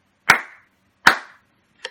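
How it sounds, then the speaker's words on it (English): Two sharp hand claps about a second apart, followed by a softer third clap, with silence between them. "Let's clap it together."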